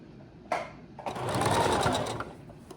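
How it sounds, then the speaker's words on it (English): A sewing machine runs a straight stitch straight across folded fabric for a shorts jumpsuit, a steady whirring burst of about a second and a half, close and loud with no talk over it. "we get ready to do a straight stitch straight across"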